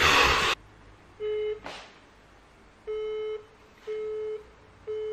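After a phone call to the number 666 on the Orange network hangs up, a loud burst of noise cuts off and a line tone beeps repeatedly in short, evenly spaced pulses.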